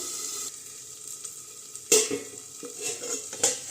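Masala paste sautéing in oil on low heat for a Bengali katla fish kalia, a soft hiss with a few sharp spatula clinks and scrapes against the pan.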